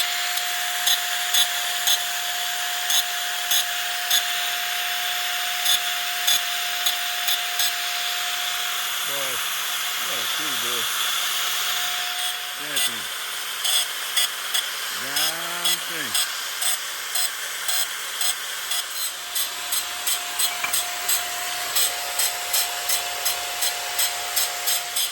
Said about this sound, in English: just flat wheel this and get it down to bare steel